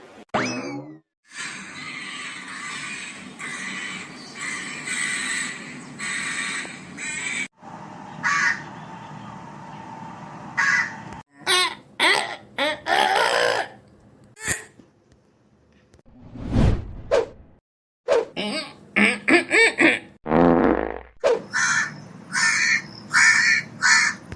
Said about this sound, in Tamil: வெள்ளக்காக்கா பதக்குது, மூஞ்சிக்கிட்ட வந்து பதக்குது, பயமா இருக்குது